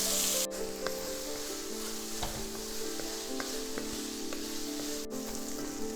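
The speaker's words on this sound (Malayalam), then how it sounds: "വറുത്ത വെളിച്ചെണ്ണയിൽ നിന്ന് രണ്ട് ടീസ്പൂൺ വെളിച്ചെണ്ണ എടുത്ത് ഒഴിക്കുക" Onions fry in coconut oil in a pan for a chicken varutharachathu masala, a loud continuous sizzle with occasional faint clicks of stirring and no voices.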